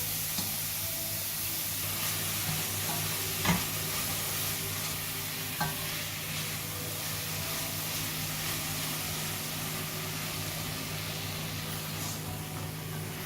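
Microgreens being mixed with salt in a hot pan, with a continuous soft sizzle and hiss running throughout and a couple of faint spoon taps, close and steady.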